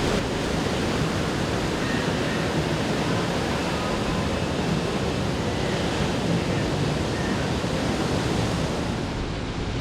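Ocean surf breaks steadily against rocky shore formations on a beach in Eastern Samar, Philippines, a continuous broad wash of close, loud water noise with no voices.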